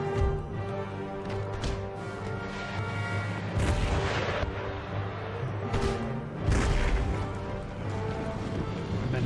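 Foot artillery in Empire: Total War fires in heavy booms, several dull cannon blasts spaced a few seconds apart over a constant low battlefield rumble and distant musketry.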